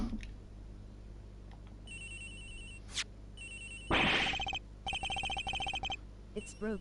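A phone rings in the video game Ace Attorney Investigations, repeated electronic ringtone bursts in a steady pattern, interrupted by a loud rushing burst midway, with no speech.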